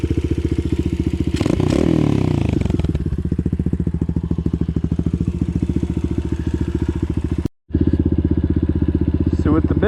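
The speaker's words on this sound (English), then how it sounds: "with the bigger carb and the new exhaust, she seems to have way better throttle response" An X-Pro Storm 150 DLX dual sport motorcycle with an FMF exhaust and 30 mm Keihin clone carburetor idles and revs close by with a rough, throaty exhaust note, briefly cutting out near the end before resuming.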